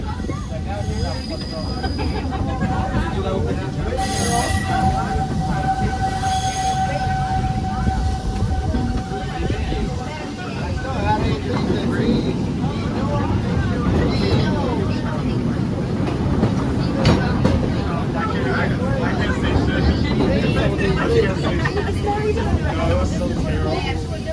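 Rumbling, rattling Big Thunder Mountain roller coaster train at Disney World clattering along the track for a long stretch, with a squealing whine and voices in the background.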